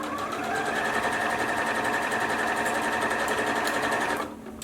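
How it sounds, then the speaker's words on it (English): A sewing machine runs in one steady, continuous burst as it stitches around the curved edge of a baby hat, loud and close, then stops abruptly near the end. "Go a few stitches, lift up your presser foot, then keep stitching."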